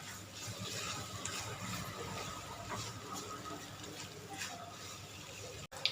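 A black pepper grinder ratchets in repeated clicking bursts over food, fairly quiet and steady, with a sharp knock near the end.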